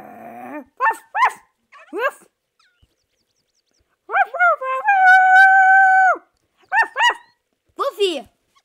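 A dog barking close and loud in short repeated bursts, with a sustained howl in the middle, separated by brief silences.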